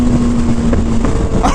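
Kawasaki ZX-6R motorcycle engine running steadily and loudly up close, a sustained droning tone holding alone with no voices, rising slightly in pitch near the end.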